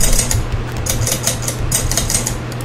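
Typewriter keyboard sound theme from the Loud Typer app on an iMac, producing a steady run of crisp, clacking key strikes in quick irregular rhythm, close and moderately loud, with no talking.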